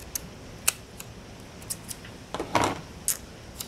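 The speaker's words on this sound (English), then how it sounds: "I'm going to take this black and white box and I'm going to cut it at a diagonal." Scissors cut diagonally across a black and white paper box, giving a few faint, crisp snips and clicks spaced out over a quiet background.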